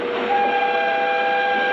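A train sounds at a railway crossing in the Indian Train Simulator game, a loud, steady, sustained horn-like tone that holds level with no talking.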